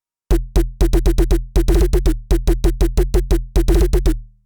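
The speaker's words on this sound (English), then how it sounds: "And the last one is a snare that I transposed in order to retain the main fundamental tone of it" Transposed snare layer of a layered bass sound, a fast rhythmic run of short, crisp hits carrying a low tonal body, occasional rapid doubles, dry and upfront without any talking.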